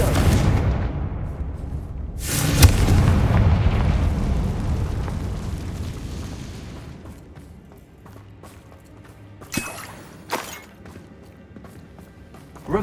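A Confringo fire spell explodes in the Hogwarts Legacy video game, a loud burst and roaring blast that rumbles for several seconds before fading, followed by a few sharp crackling hits.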